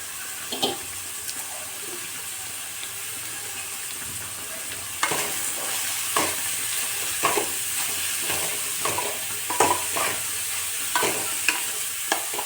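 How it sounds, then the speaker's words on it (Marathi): Carrots roast in ghee for carrot halwa, a steady soft sizzle broken by repeated spoon scrapes and knocks against the pan, close up with no talking. "गाजर छान असं भाजून घेऊया 5 मिनटं, सॉफ्ट होईपर्यंत"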